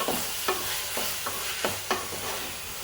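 A spoon stirs a tomato and fenugreek curry in a pan, giving soft repeated scrapes about every half second over a faint, steady sizzle, close and quiet.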